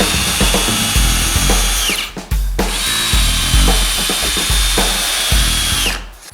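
A power drill drives screws into pieces of a wooden workbench leg in two loud, sustained bursts with uneven, whirring pitch, each ending in a brief pause, with no talking.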